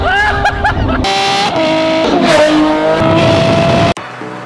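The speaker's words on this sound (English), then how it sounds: "this video is about an exhaust system, which is the sound it makes on my Ferrari F12" A Ferrari F12 with a freshly installed aftermarket exhaust revs loudly and close, its pitch rising and falling over several sharp throttle blips before cutting off abruptly near the end.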